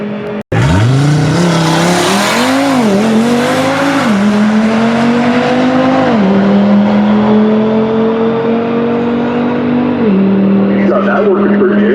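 A 2018 Audi RS3 with a Unitronic tune and stock turbo launches on a drag pass, its five-cylinder engine roaring loud and close, climbing through rising revs with clear gear shifts and no talking.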